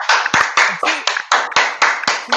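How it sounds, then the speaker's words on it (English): A handful of people clap on a combat sports show, about ten sharp, evenly spaced claps, close and loud, with no talking over them. "I'm glad you clapped"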